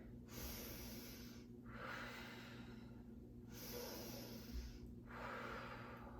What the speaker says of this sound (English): Just 3 breaths.